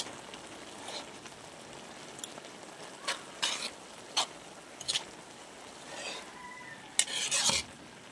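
Egg noodles with fish flakes are stirred in a sizzling pan, with intermittent scraping and clinking of the utensil against the pan over a soft, steady frying hiss, close and without talk.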